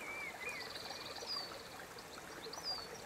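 River water flows steadily with a constant broad rushing wash, while birds chirp faintly above it.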